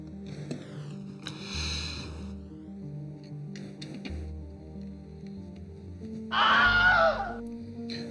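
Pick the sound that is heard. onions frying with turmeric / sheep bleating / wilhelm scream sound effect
wilhelm scream sound effect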